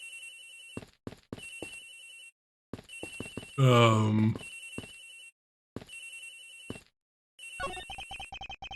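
A cell phone in the Ace Attorney Investigations video game rings with a repeating electronic melody in short bursts, interrupted by a brief voiced game sound in the middle, then a different chiming jingle at the end.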